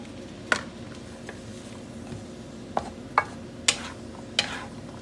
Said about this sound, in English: the water's starting to boil that I put in, so I'm gonna go ahead and dump my celery in.